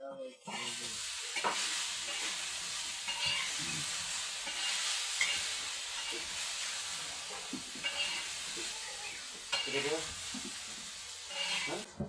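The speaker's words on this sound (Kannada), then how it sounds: "ಈಗ ಟಮಾಟೋನು ಹುರ್ಕೊಂಡಿನ್ರಿ" Tomatoes fry in a pan with a steady, close sizzle and hiss, broken by stirring scrapes, while a voice talks over it.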